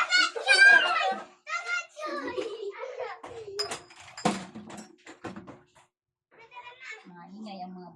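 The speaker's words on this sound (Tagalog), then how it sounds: "Maingay ang mga bata naglalaro." Children playing noisily indoors chatter and squeal in bursts close by, with high-pitched cries and a few thumps, leaving short gaps between outbursts.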